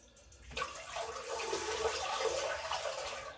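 Tap water runs into a sink while a vintage Gillette Aristocrat Slim safety razor is rinsed, a steady broadband splashing starting abruptly after a short quiet moment and continuing close and fairly loud to the end.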